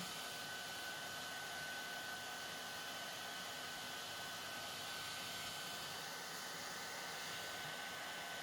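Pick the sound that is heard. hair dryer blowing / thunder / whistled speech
hair dryer blowing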